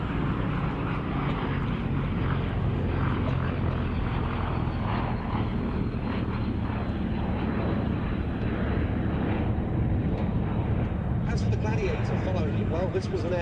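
A Bristol Blenheim 1F flies at the Duxford airshow, its piston engines giving a loud, continuous drone throughout, with a voice talking over it.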